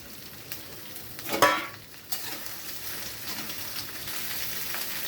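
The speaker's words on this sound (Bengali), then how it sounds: "তার সঙ্গে আমি ভেন্ডিগুলো দিয়ে একটু ভাজা ভাজা করে নেব।" Okra fries in hot oil with a steady sizzling hiss, broken by a sharp scrape of stirring before the frying settles into a continuous crackle.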